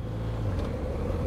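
A BMW R1250GS Adventure motorcycle rides along a bush trail, its steady engine rumble and wind noise holding at a moderate, even level for a short stretch, with no talking.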